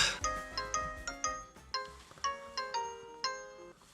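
A video call's ringing tone sounds as a repeating electronic chime, bright tinkling notes plucked in a steady rhythm about every half second, clear and close with no voices.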